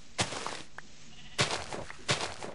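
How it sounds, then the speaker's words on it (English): Sheep bleating in the video game Minecraft, three short nasal bleats spaced about a second apart, close and clear with no talking. "There's a lot of sheep."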